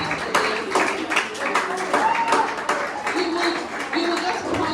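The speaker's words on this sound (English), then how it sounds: "Please a round of applause for them." A room of people claps for a group of students standing at the front, scattered bursts of hand claps at close range over indoor voices that keep talking through it.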